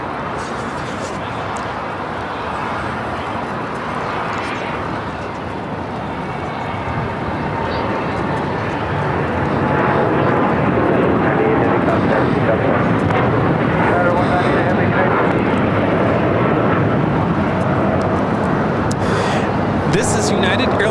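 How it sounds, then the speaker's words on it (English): A United Airlines Boeing 787-9 Dreamliner takes off at LAX, its broad jet roar building and swelling louder through the second half, with crowd chatter mixed in at a busy spotting hill. "This is United Airlines 198 taking off to Shanghai on the 787-9 Dreamliner."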